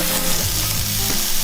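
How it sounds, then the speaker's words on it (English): Steady, dense sizzling of onions frying in a skillet, loud and close, with faint stirring scrapes throughout. "You can see and hear that the onions are sizzling."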